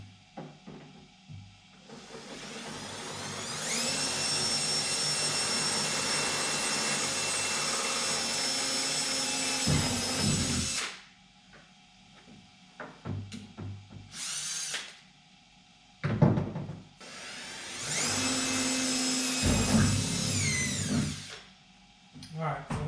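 A power drill with a 1/4 inch bit bores holes while an ATV lounger and storage rack are fitted. It runs loud and close in a long steady whine, stops, gives a few short bursts, then makes a second long pass. Some handling noise comes between passes.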